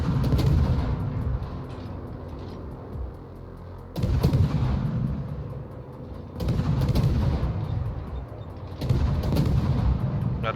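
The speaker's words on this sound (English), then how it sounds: "I am going to throw some extra shots in here at this Montana." Naval gunfire from warships in the World of Warships game, with a Harugumo firing at a Montana: heavy booming salvos land about every two and a half seconds over a constant rumbling battle backdrop.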